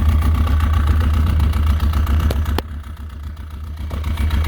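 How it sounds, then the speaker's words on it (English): A Yamaha RX1 snowmobile engine idles steadily close by, its low loud drone carrying a clutch rattle, with a brief sharp knock near the middle before the level dips slightly. "Boy, that clutch rattle,"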